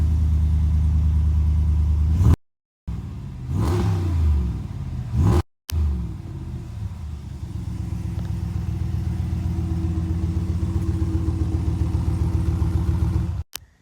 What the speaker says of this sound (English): so I'll see if you can still hear it if I rev it up a little bit